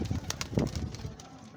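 A female pigeon being handled coos and rustles close by in soft, uneven bursts, with faint handling sounds around it.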